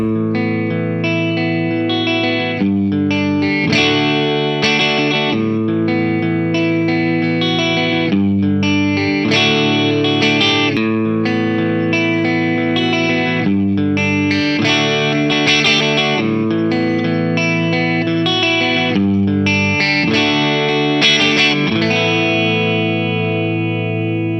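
Electric guitar run through a Wampler EGO76 compressor pedal plays a continuous passage of chords and arpeggios at an evenly squashed, uniform volume. Distortion and modulation colour the tone, and the guitar is heard alone without talk.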